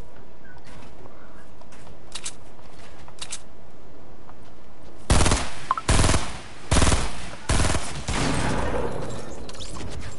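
Gunfire in a video game: a few faint distant shots early on, then several loud close bursts of rapid automatic fire separated by short gaps.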